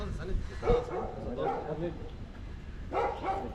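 A few short dog barks and yips ring out close by, mixed in with people talking outdoors.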